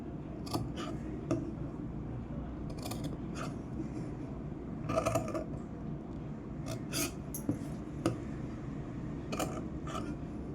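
Scissors snipping through excess blouse fabric, a series of crisp irregular cuts close by, quiet and alone with no talk.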